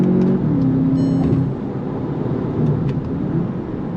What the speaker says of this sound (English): Man, the downshifts are where it's at.